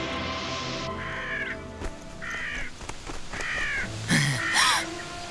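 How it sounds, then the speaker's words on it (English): Several harsh crow caws ring out in short bursts over a busy background of other sounds, with the last two calls louder and nearer. "That stupid, scruffy, bedraggled bird scared the pants off me."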